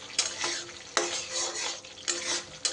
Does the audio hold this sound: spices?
yes